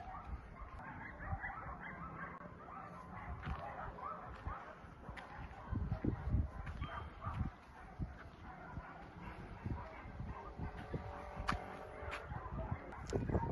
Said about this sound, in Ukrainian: Як ви чуєте, цей дуже прекрасний гавкіт.